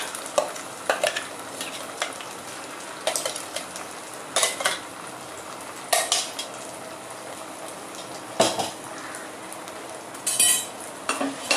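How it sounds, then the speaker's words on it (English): A spoon stirs a soya, milk and date dessert sautéing in a pan on a home stove, with a faint sizzle beneath intermittent sharp scrapes and clinks of utensil against metal every second or two. "Just saute it well. It will stick at the bottom, so you have to be careful. You have to stir your dessert continuously."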